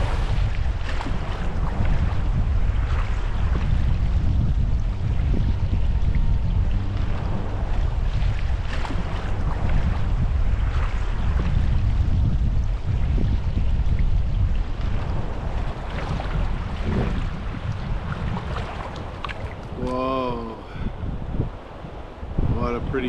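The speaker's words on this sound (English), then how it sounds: "Tricky paddling moments of the trip, but some of the biggest standing waves yet." Solo paddling through big standing waves on a Yukon river in wilderness, with a continuous loud rush of churning water and wind buffeting the microphone, broken by paddle splashes and brief bursts near the end.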